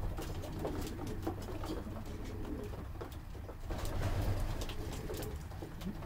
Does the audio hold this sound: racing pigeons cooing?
yes